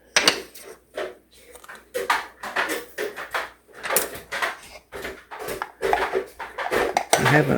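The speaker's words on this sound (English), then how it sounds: "he's dragging his 2 big old plastic trucks with him" A child drags two big old plastic toy trucks across the floor, making a loud, uneven rattling and clattering that runs throughout, with a few brief spoken words.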